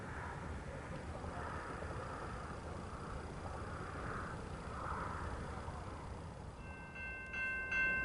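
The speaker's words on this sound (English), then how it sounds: "said next train was not a westbound, but actually an eastbound" Eastbound freight train rolling downgrade past a trackside spot in Hesperia, a steady, faint low rumble and rail noise throughout, with a brief brighter ringing tone near the end.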